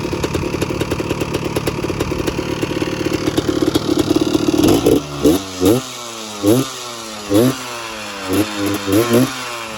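A cold trike's motorcycle-type engine idles fast and steady while warming up, then settles into an uneven, pulsing idle with rhythmic surges, close by and fairly loud, with no talking.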